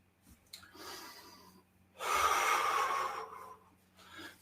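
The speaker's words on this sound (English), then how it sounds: "Get the breathing under control." Heavy breathing from a person doing an aerobic exercise workout with hacky sack skips, a few short breaths followed by a loud sustained exhale or panting burst, close and with no talk.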